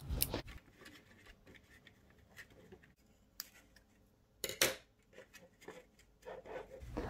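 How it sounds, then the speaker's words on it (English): An activated carbon air filter being cut up by hand, with scattered rubbing, snipping and crunching sounds, close and fairly quiet, including a couple of sharper bursts of cutting. "I decided to cut up an air filter."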